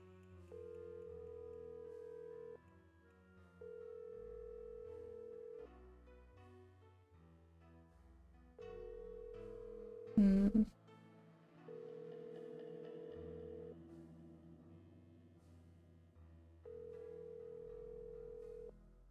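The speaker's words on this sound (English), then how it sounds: "No, I think it's been ringing too long." A telephone call rings out in repeated long, steady tones separated by short gaps, with one brief loud burst partway through and faint background sound in between.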